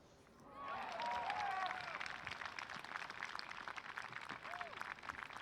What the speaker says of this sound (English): That might have been the applause from Henna's approach on 16.